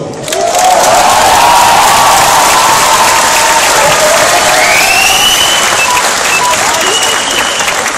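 A school audience at a class performance claps and cheers loudly and steadily for the whole stretch, a dense wash of applause with whoops and shouted voices rising above it.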